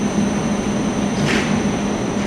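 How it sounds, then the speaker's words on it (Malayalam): A train rolls slowly into a station platform in Slovenia, a steady loud rumble with a low hum and a thin high whine running throughout. "ദൂരെ നിന്നും ട്രെയിനുകൾ സാവധാനം പ്ലാറ്റ്ഫോമിലേക്ക് വന്നെടുക്കുന്നത് നല്ലൊരു കാഴ്ചയാവുന്നു"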